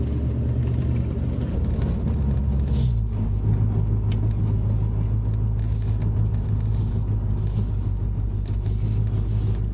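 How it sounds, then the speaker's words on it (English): A 1969 Ford Mustang, one owner and driven for the first time after sitting over 30 years, rumbles down the road with a steady, loud, low engine drone that shifts in pitch early on, heard from inside without talk. "First time in 30 plus years, old girl just took a trip down the road."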